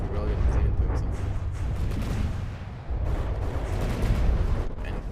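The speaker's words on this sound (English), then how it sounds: "we're just gonna have a constant volley of just these small missiles" Weapons fire in a naval combat video game, with a constant volley of small missiles and railgun shots making a dense, loud rumbling barrage of overlapping booms throughout.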